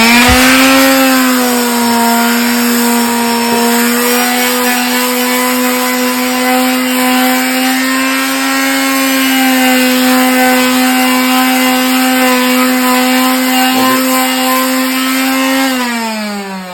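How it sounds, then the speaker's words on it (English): A router fitted with a trimming bit runs steadily along the edges of a wooden stool being restored, making a loud, continuous high whine with a stable pitch that winds down at the end, with no voices. "with this tool bit on the router, I have trimmed these edges"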